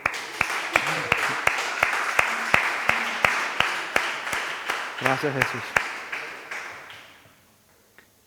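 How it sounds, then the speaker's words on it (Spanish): Congregation at a church service applauding, steady dense clapping with sharp hand claps punctuating it, while someone speaks over the top; the applause fades away in the last seconds. "Un aplauso a Dios, sí."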